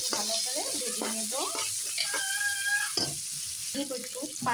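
Spice paste frying for a tilapia fish dish, a continuous close sizzle with stirring scrapes and clinks against the pan, and a voice speaking briefly over the cooking.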